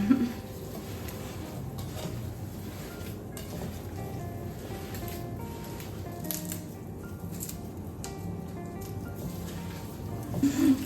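Turkey stuffing is mixed by hand, producing soft, wet squishing and stirring sounds with occasional light clicks and knocks, close and fairly quiet throughout.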